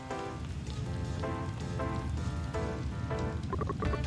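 Rain in the Eastward video game falls as a steady, even patter that runs throughout, with soft musical tones rising and falling over it and no voices.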